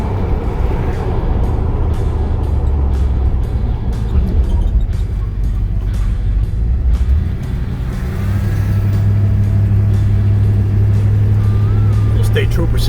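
A 1978 Dodge Monaco nine-passenger wagon drives along a road, its engine humming low and steady, with a deeper drone picking up in the second half, and a few ticks and clicks over the top.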